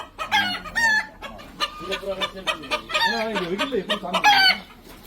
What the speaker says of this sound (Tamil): ஒரிஜினல் நாட்டுக்கோழி நல்லா பாருங்க